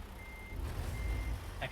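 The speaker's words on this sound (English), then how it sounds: "I say as my truck already beep, beep, beeps for me." Truck reversing alarm in American Truck Simulator, an intermittent steady electronic beep at moderate level over a low rumbling engine drone, ending with a brief higher burst.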